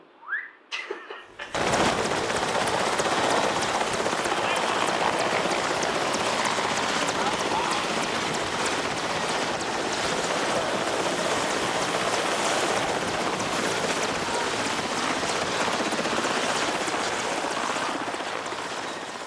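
A helicopter sits close by on a film set, a loud, dense, steady roar that starts abruptly after a brief quiet moment and keeps going unbroken for many seconds.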